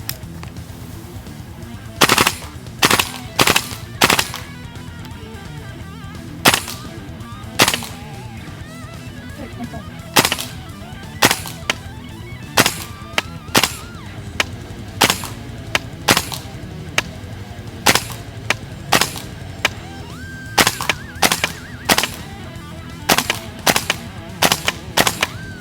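A KWA gas blowback airsoft gun fires in short sharp bursts and single cracks, scattered irregularly over a low steady background hum, close and loud, with some brief talk between shots.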